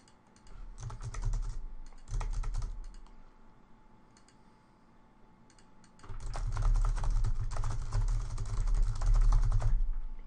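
Fingers tap quickly on a computer keyboard while filling in a web form, coming in short clattering bursts with pauses, then a longer, denser run of keystrokes toward the end.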